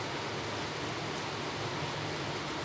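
Steady rain falls outside, a dense, even hiss of drops with no breaks or other sounds over the short stretch.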